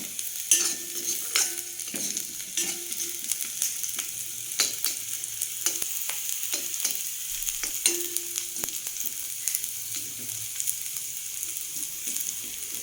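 Finely chopped potato, carrot, green chili and curry leaves sizzle in a hot pan while a utensil stirs and scrapes them in repeated strokes, a steady frying hiss punctuated by sharp clicks.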